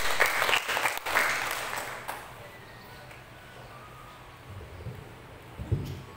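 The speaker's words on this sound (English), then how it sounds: "Shall we give her a round of applause?" A dense round of audience applause at a school moving-up ceremony, loud at first and quickly fading after about two seconds into quiet room tone with a few stray sounds.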